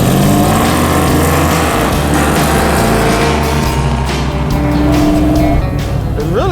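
A Dodge Challenger's engine drones loud and steady from inside the car as it drives at speed on the road, with road and tire noise mixed in and no talking.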